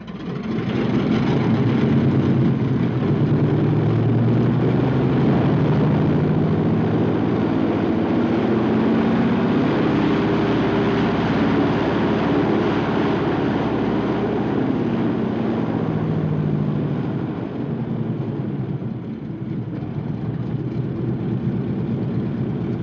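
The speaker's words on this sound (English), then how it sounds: "the crew chief runs up the engine and makes one final check" A field-assembled P-47 Thunderbolt fighter's piston engine roars through a run-up, a loud, continuous low-pitched drone that holds steady for over twenty seconds with only slight shifts in tone, no talk over it.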